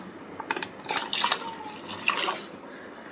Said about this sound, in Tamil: இப்போ புளி தண்ணி கரைச்சி வச்சுருக்கிறது இதில் ஆட் பண்ணிக்கலாம்